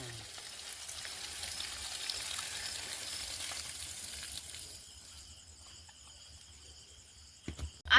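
Water sprays onto leafy vegetable plants as a steady, soft hiss that fades out midway into quieter outdoor ambience, ending with a short clatter.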